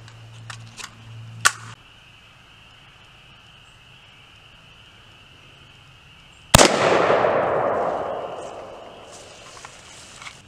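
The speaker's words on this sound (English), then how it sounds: "Now we're shooting a 223 Remington." A single sharp, loud rifle shot from a .223 Remington goes into a washing machine outdoors. The crack hits suddenly and a long rumbling echo decays over several seconds, preceded by a few faint clicks and handling noises.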